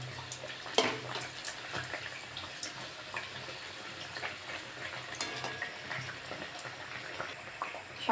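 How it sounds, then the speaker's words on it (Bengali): Maida khaja sweets frying in hot oil, a steady bubbling sizzle with occasional sharper crackles and stirring clinks, moderately close and unbroken by talk. "উল্টে পাল্টে ভালো করে ভেজে নেব।"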